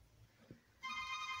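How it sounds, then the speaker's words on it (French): A telephone ringtone starts abruptly partway through, a bright electronic tone ringing steadily after a quiet moment with a faint voice sound before it. "C'est le téléphone qui sonne."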